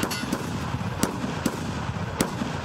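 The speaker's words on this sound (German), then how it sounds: "Ja, die Waffe hat geschossen." Sparse sharp gunshots from the Escape From Tarkov shooter game, about four separate bangs spaced irregularly over a quiet background, moderately loud with no talk.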